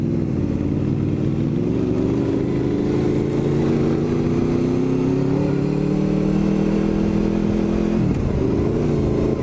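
Several motorcycles ride past on a road, loud, steady engine drone with rising and falling pitch as the bikes pass, one shifting tone near the end.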